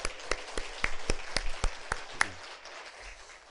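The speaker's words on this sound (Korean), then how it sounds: "우리 아동부 친구들에게도 박수 한번" A small church congregation claps for the children's group, a sparse run of separate, fairly distinct claps in an uneven rhythm that thins out toward the end.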